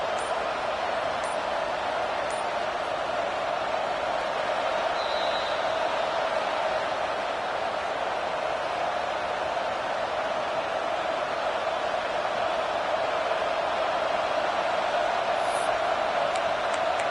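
A large home crowd at a college football game, Oregon versus USF, roars in a steady, dense wall of noise during a third-down defensive stand, sustained and loud throughout without a break.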